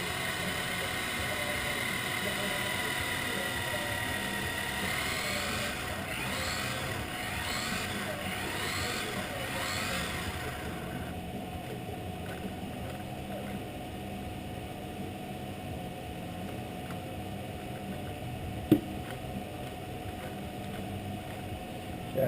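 A Kyosho RB6 RC buggy running at quarter throttle during break-in, a steady high-pitched electric whine with faint rhythmic whirring pulses early on, heard at moderate distance.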